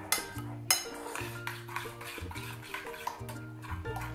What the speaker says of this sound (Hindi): ये इसको हम अच्छी तरह मिक्स करेंगे